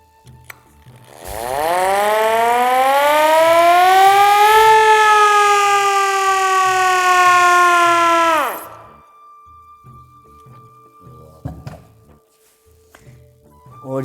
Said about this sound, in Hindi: ये इमरजेंसी सायरन